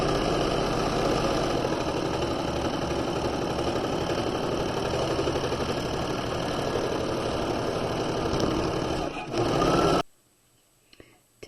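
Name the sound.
sewing machine stitching shoulder seams of a jacket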